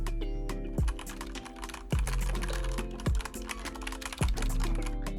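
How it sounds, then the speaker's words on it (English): Typing on a Razer BlackWidow V3 Tenkeyless keyboard with yellow mechanical switches, a steady run of close keystrokes with a few louder bottom-out thumps roughly every second, heard alone over background music. "And here is the sound of the keys in action."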